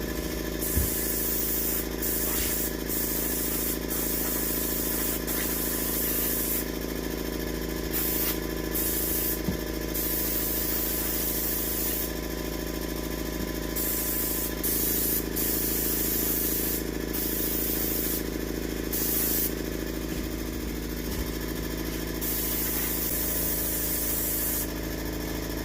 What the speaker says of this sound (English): throw some good old base coat sealer all over it. And then get it everywhere.